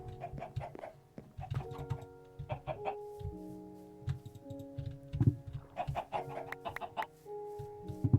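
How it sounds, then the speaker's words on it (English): Blocky chickens in Minecraft cluck in short, scattered game-audio bursts, mixed with soft keyboard and mouse tapping. "So many chickens."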